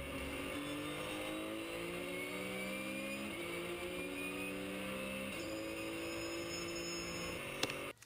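Race car engine at steady high revs, heard from on board while overtaking on a wet track; a continuous loud drone with shifting pitch lines, ending with a brief clunk.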